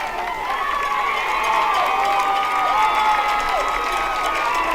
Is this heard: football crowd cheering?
yes